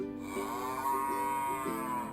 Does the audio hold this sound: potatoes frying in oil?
no